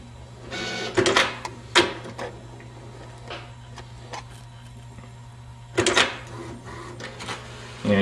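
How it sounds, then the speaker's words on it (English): A desktop printer prints a document nearby, with bursts of mechanical feeding and whirring, clacks around the first two seconds and again near six seconds, and quieter motor noise between them. "it's going to come off the printer hopefully over here"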